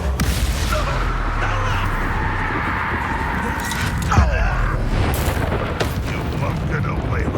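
A Bombarda explosion spell goes off in Hogwarts Legacy, a dull booming burst over a steady bed of rumbling game ambience and mechanical noise, with a brief louder thump partway through.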